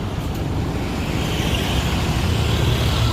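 Passing traffic on a street beside rice fields in Ubud, Bali, a broad steady engine and road rumble at moderate loudness that holds without a clear start or end, with no talk.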